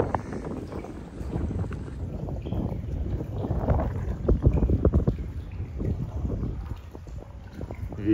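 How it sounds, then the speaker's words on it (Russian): Strong, gusty wind buffets the microphone outdoors beside clear water, a rough low rumble that surges and fades unevenly and stays loud throughout, with no voices. "Ветер какой."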